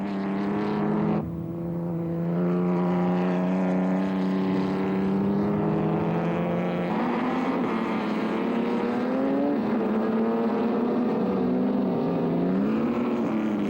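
ERA racing car with a 2-litre engine driving on a track, a loud sustained engine note rising and falling through gear changes, close and unbroken.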